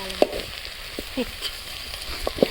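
Sliced onions frying in hot oil for a village-style broad bean curry: a soft, continuous sizzle broken by small crackles and pops, with no talk over it.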